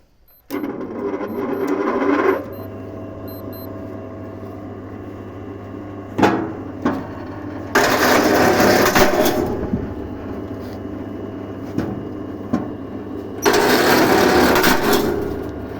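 A homemade T-Rex Mini wood splitter runs with a steady motor hum, and its hydraulic working strokes surge louder in three separate bursts, broken by sharp knocks as logs split.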